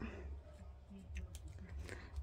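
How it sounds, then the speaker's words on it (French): A few faint snips of scissors cutting through tape on a diamond painting canvas, soft and close, over a muffled background murmur. "je vais prendre mon ciseau."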